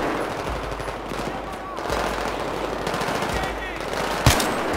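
Rapid automatic gunfire in the video game Battlefield 3, bursts of shots under moderate game noise, with a sharper single shot near the end.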